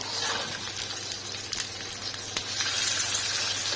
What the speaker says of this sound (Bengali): এখন আমি ডিম ভাজবো